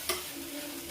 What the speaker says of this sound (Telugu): బొంబాయి చట్నీ తాలింపు పెడుతున్నా